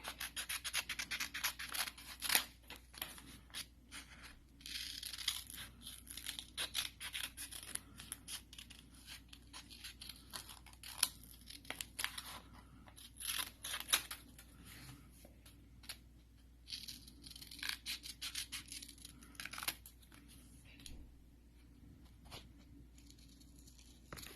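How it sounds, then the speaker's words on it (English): Scissors snip through paper in quick, irregular bursts for about twenty-five seconds, a faint close-up scratching and crisp clipping with rustling of the sheet, no talking. "next you're going to grab your scissors, you're going to cut it out."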